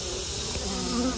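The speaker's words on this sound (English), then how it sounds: "Ow, don't sting me, bee." A bee buzzes steadily near a beehive, close and continuous, its drone alone without any talk.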